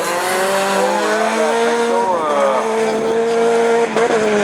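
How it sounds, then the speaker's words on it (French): A Division 4 rallycross car at the French championship in Lessay spins out on the track, its engine revving loud and close with tires squealing as the pitch swoops up and down. "Grégory Post tête à queue"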